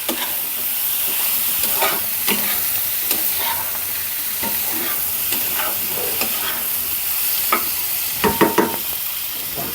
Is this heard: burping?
no